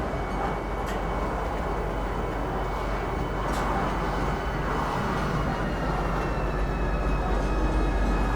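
A train pulls in at Lorville City Gates in the video game Star Citizen. It makes a steady, loud rolling rumble with a high whine and faint metallic squeaks that keeps going the whole time. No talk is heard.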